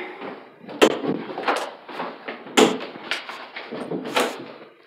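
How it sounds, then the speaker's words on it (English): Inside a triple-wide manufactured home, a door is shut. Several separate knocks and thumps of a door and fittings ring out clearly in a quiet room, with two sharper impacts standing out. "And all you have to do is shut the door."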